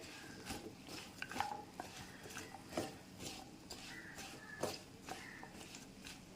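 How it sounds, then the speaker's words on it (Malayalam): Mixed vegetables sautéed in butter in a pan, with a spoon scraping and stirring in repeated soft clinks and scrapes over a quiet, faint sizzle. "വെജിറ്റബിൾസ് ഈ ബട്ടറിൻ്റെ കൂടെ നന്നായിട്ട് വഴറ്റി കൊടുക്കാം"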